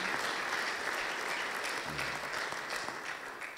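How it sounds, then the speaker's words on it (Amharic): A church congregation claps in a steady, dense wash of applause that holds for several seconds, close and full, with a faint voice briefly underneath. "እስቲ አጨብጭቡ ለእግዚአብሔር"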